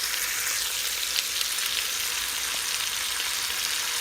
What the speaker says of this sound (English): We're going to just saute the veggies around a little bit here.